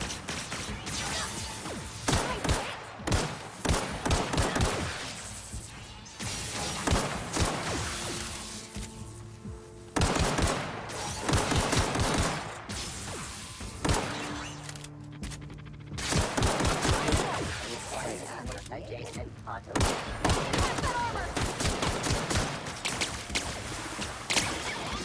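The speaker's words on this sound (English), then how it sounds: "Are they really shooting at the fence?" Rapid gunfire in The Outer Worlds game rattles against a fence in dense crackling volleys, moderately loud and near, broken by short pauses and some clanking mechanical sounds.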